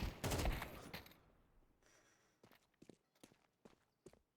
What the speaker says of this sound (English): Killer's footsteps going to be heard.